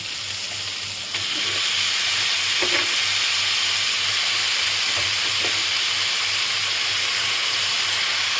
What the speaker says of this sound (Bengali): এবার এটা সামান্য নাড়িয়ে আমি এবারে শাকগুলো দিয়ে দিচ্ছি এতে।